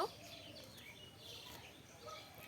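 A native desi rooster held before slaughter in a village setting gives a few faint, brief clucks at the start and near the end over quiet background noise.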